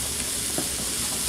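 Broccoli and cauliflower dropped into a Saladmaster electric skillet while cooking chop suey, a soft continuous sizzle with a few brief rattling thuds as the pieces land, close and moderately quiet.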